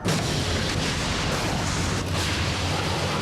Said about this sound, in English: One of the more complicated scenes features the blowing up of a 25-story building.